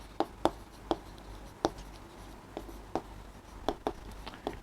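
Pen writing an answer on paper during a Class 6 maths lesson, a series of sharp, irregular taps and short scratchy strokes close up against quiet room noise, with no talking.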